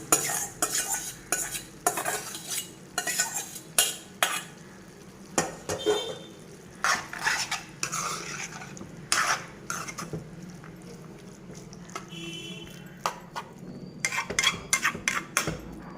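A spoon stirs boiled chana dal into a cabbage curry in a pan, giving repeated close scrapes and metallic clinks in an uneven rhythm over a low simmer, with no talking.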